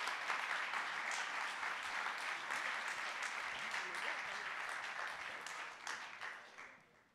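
Sustained audience applause at an environment and climate awards evening, steady dense clapping from a crowd that holds level and then tapers off toward the end, with a voice faintly audible underneath.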